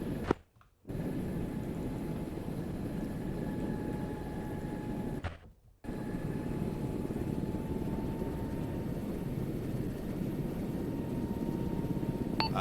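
Black Hawk helicopter engines spool up with a steady roaring drone and a thin high whine, broken by two short dropouts before the noise resumes at a constant level.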